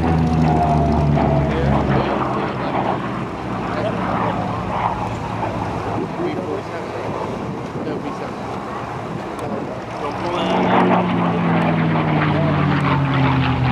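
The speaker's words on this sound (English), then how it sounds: "Here comes the P-40 Warhawk once again, also known as the Tomahawk." A P-40 Warhawk WWII fighter plane at an air show open house roars past loudly, its propeller engine drone filling the scene with a falling pitch and then a renewed surge near the end, with wind buffeting the microphone.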